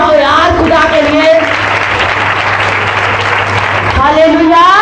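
A church congregation at an evening revival session in Raipur claps together in a steady, dense burst lasting several seconds, with singing or speaking voices heard before and after the applause.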